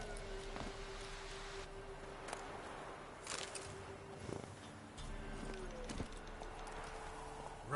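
Roach the horse gallops in The Witcher 3, hooves clip-clopping in a steady run beneath game ambience, with faint birds and brief voice-like bursts in the mix.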